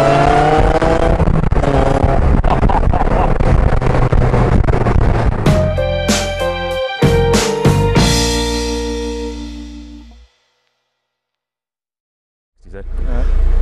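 Supercharged Ariel Atom pulling hard through the gears, a loud, close engine roar with sharp upshift breaks, then cutting out to silence before the engine note returns.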